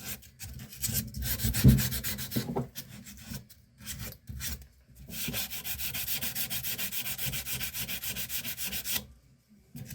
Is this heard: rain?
no